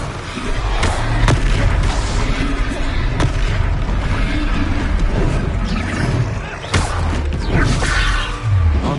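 A heavy ancient magic throw lands in the Hogwarts Legacy video game, booming crashes and whooshing impacts layered over battle effects in a dense, loud stretch with several sharp hits, voices in the mix.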